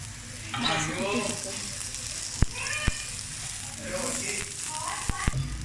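A paratha flatbread fries in oil with a continuous close sizzle, punctuated by a few sharp taps and clicks from the pan or spatula. A voice speaks faintly over it.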